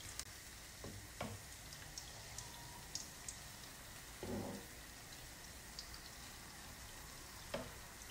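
Chocolate donuts fry in oil as a quiet, soft bubbling sizzle, with scattered faint pops and a few brief clinks or splashes as oil is spooned over them; no voices.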